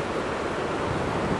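A river in Kyoto in the early morning rushes as a steady, even wash of water noise, moderately faint and unbroken, with no voices.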